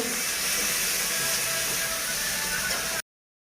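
Ginger and garlic sauté in a pan as a steady, loud broadband sizzle that hisses without a break for about three seconds and then cuts off abruptly.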